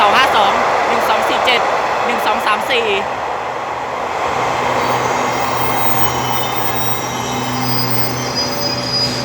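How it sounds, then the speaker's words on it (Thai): An empty passenger train returning from Lopburi rolls past a station platform in Thailand, its wheels squealing loudly at first, then a steady rumble of the cars continuing throughout, with someone talking over it. "นี้เป็นขบวนรถเปล่าครับ กลับมาจากจังหวัดลบบุรีครับ"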